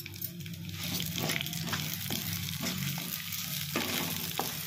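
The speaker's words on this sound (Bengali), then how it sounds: "একটু লাল লাল করে আগে ভেজে নেওয়া যাবে।" Moong dal frying in hot oil in a kadai, a steady close sizzle with occasional scraping stirs, no talking.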